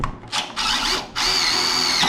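A power drill bores a pilot hole in a scrap of aluminum during S10 truck work, whirring in short bursts: a brief spin, a pause, then a longer steady run close to the microphone.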